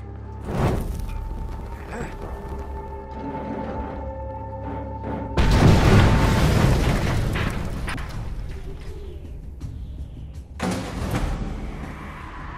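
Heavy booming explosions burst out in the video game Mad Max (2015), one big blast midway and another near the end, with rumbling debris and game noises in between.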